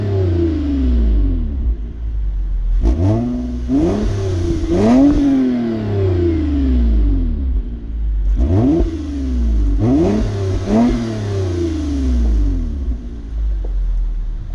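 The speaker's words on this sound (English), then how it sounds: "it all has to do with that TRD Catback exhaust" A 2022 Toyota Camry TRD with a TRD catback exhaust revs hard while driving, loud and close, with repeated rising and falling engine pulls and a deep, raspy exhaust note over a steady rumble.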